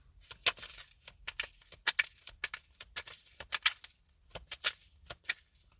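Love oracle cards being handled and shuffled, with soft, close papery riffles and flicks in irregular bursts, quiet, with no voices.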